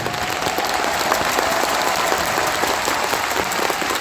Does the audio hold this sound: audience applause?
yes